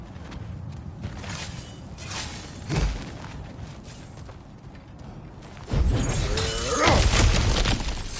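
In the video game God of War, cracked ground gets smashed through with a loud crash and shattering debris, followed by a heavy rumbling burst and whooshing, lingering crumble with no speech.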